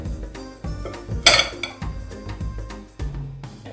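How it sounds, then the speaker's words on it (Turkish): Cooked radish greens being moved onto a serving plate: a burst of clinking utensil scrapes and dish knocks in a quiet kitchen, close and moderately loud, with one sharper metallic clatter midway. "Servis tabağına alıyorum."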